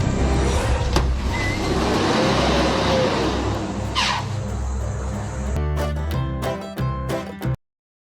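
A tourist van drives off from an angry elephant in South Africa, its engine a steady close rumble that fades as it pulls away, followed by a few sharp knocks and clatters before cutting out.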